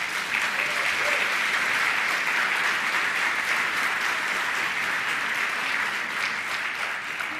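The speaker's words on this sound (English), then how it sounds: "Can we give them another round of applause?" Continuous dense clapping from a crowd at a panel discussion on allyship with Indigenous communities, an even round of applause lasting throughout.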